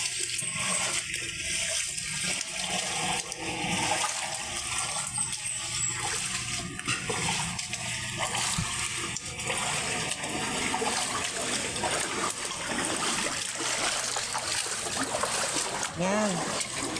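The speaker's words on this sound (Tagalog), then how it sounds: "Ganyan na ang tubig." Floodwater rushes steadily through a flooded residential street, a constant broad wash with trickles and splashes, while a person talks over it.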